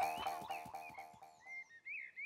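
Cartoon frog croaking in a run of about six rhythmic, gurgling croaks that slow and soften, then trail into a rising squeaky trill, clear and close with no talk.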